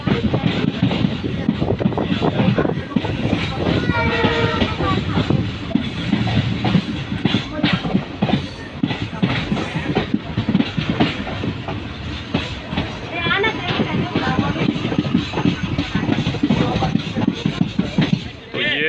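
Express passenger train running towards Nabha station on the Deshnok–Jaipur route, with a steady loud rumble, wind and rail clatter throughout and a voice talking over it.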